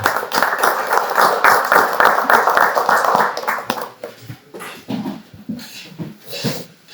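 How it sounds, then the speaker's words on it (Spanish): Audience applause at an evening chapter meeting of a Christian business fellowship, with dense clapping for about four seconds that then thins into scattered claps and soft crowd noise. "lo recibimos con un fuerte aplauso."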